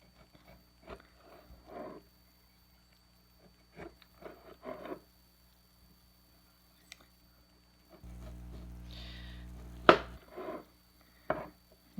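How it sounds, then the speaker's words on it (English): A kitchen knife slices through a tomato in a few soft, separate cuts, quiet and close, with a steady low hum and a couple of sharper taps near the end. "I'm going to cut down. Whoops. Cut down the slices."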